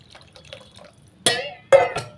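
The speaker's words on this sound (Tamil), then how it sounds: "இப்போ நம்ம புளி தண்ணி சேர்த்துக்கலாங்க." Tamarind water is poured into a simmering peanut, garlic and shallot curry, giving two short splashy pours after faint bubbling.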